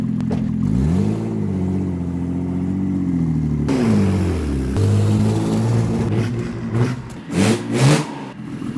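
A BMW six-cylinder fitted with a truck turbo runs close by, a loud steady idle that rises and falls through revs and ends with a few sharp throttle blips.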